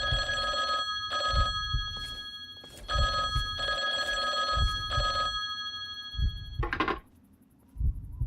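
A telephone rings in a diner in Fallout 3, a mod setting, with repeated bursts of bright bell ringing in a regular pattern over a low rumbling background, ending in a short harsher tone and a pause.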